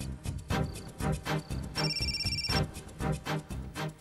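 A telephone ringing during a call, an electronic ringtone repeating in short rhythmic bursts with a longer trilling phrase in the middle, moderately loud and alone.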